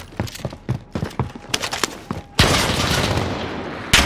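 Gunfire in Call of Duty Warzone: a string of separate sharp shots cracks out, then a dense, loud burst of continuous fire takes over near the end.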